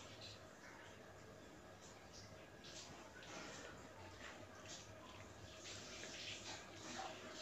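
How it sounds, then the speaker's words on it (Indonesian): A household water tap runs steadily in the background, a faint continuous hiss of flowing water with small splashes, while a person eating noodles makes soft mouth and utensil noises nearby. "kalau ada suara keran"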